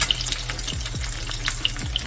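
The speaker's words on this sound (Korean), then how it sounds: "계란 후라이 할게요. 김치볶음밥이니까 가볍게 계란 두 알만 넣을게요." Two eggs fry in a hot pan of oil, Chinese-restaurant style, for Spam kimchi fried rice: a steady crackling sizzle with scattered pops and a few light scrapes of a utensil against the pan.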